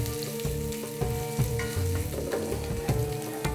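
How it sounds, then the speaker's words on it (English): Chopped onions sauté in hot canola oil with a dense, steady sizzle and occasional stirring scrapes, close and evenly loud with no voices. "I will start by sautéing my chopped onions in the hot oils"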